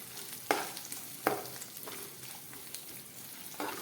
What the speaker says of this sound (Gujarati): ડુંગળીને પણ આપણે થોડી વાર માટે સાતળી લેશું.